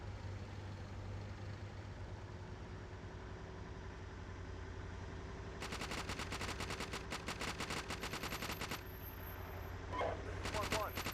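Rapid bursts of gunfire break out midway over a steady engine-like rumble, the shots clustered in quick rattling volleys, fairly distant and moderately loud, with radio-style talk running throughout.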